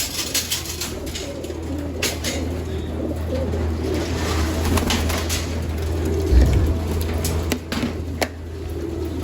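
Pigeons in a loft aviary coo and rustle steadily at close range during feeding, with soft wing flutters and occasional sharp taps mixed in.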